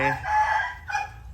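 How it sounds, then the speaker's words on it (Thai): A rooster crows once, close and loud, its call rising and then trailing off. "อันนี้ไก่"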